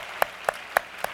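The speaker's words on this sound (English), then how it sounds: "Join me in a big round of applause to thank Shamika and One America for their generous support." Scattered hand claps from an audience at a business luncheon, four sharp isolated claps spaced roughly evenly over about a second, moderately close over a quiet room hum.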